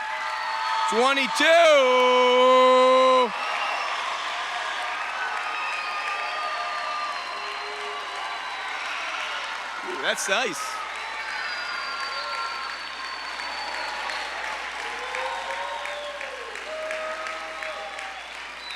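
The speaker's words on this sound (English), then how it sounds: "Let's have a round of applause for the class of" Audience applause fills a graduation ceremony for the class of 2022, a steady wash of clapping running throughout, with a brief loud vocal call near the start and a short speech fragment partway through.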